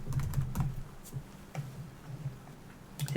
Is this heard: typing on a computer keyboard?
yes